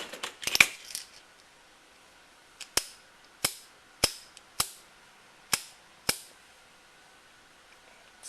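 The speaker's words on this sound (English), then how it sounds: "Nice quick break. Smooth trigger pull." An AR15 trigger being dry-fired after adjustment gives a quick cluster of clicks, then about seven crisp metallic snaps spaced under a second apart, close and sharp over quiet.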